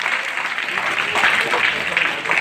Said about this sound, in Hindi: आपसे निवेदन, तालियों में कहीं कोई कंजूसी नहीं बरते।